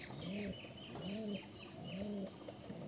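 A pair of pigeons coo in a close, steady rhythm of three soft, rounded phrases, each swelling and fading, with light chirps and faint household background noise between them.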